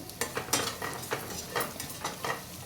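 Pieces of bottle gourd fry in a pan while a spatula stirs them, the gentle sizzle broken by a series of rhythmic scraping strokes and light clinks, close by with no talking.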